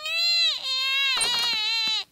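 A cartoon baby in Peppa Pig wails in a loud, tonal, sustained cry with a brief catch partway through, clear and close with nothing else around it.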